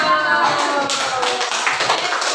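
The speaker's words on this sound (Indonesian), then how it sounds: "Kita kasih tepuk tangan buat Mas Iko." Students in an elementary classroom clapping for a classmate who answered correctly, a short round of light, fairly even claps heard nearby.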